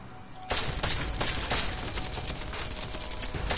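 Gunfire with a 10mm pistol in Deus Ex: Mankind Divided, a loud string of repeated shots in steady succession over dense game noise.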